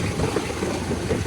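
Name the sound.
tractor engine running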